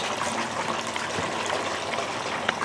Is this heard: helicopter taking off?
no